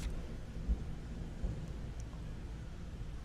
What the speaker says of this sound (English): There's just some loud ass thunder outside